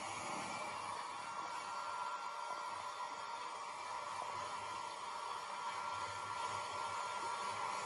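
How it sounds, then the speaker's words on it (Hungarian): A hair dryer blows steadily and evenly at close range, a continuous airy whoosh with a faint whine riding on top, running alone without pause for the whole stretch. "Így megnyugtatja ez a hajszárító"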